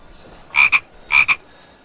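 A frog croaks twice, each call a quick pair of sharp, rasping notes, loud and close with a short pause between them and no talking around them.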